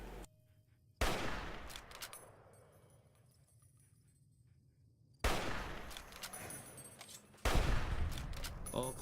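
Sniper rifle shots ring out in Fallout New Vegas: three loud, sharp reports spaced a few seconds apart, each with a long, fading echoing tail.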